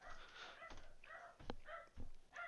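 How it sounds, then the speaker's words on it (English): A dog barks several times somewhere in the background, short yipping barks in irregular bursts, faint and distant. "For once I'm hearing barking in the background, and it's not my dog."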